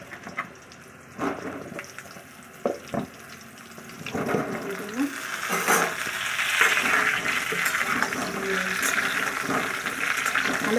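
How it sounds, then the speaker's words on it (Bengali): Potato pieces for aloo biryani drop one by one into hot oil with a few clinks and splashes, then settle into a steady, louder sizzle of frying that fills the rest. "এবার একে একে আমি আলুগুলো দিয়ে দেবো। দিয়ে বেশ লাল লাল করে ভেজে নেব।"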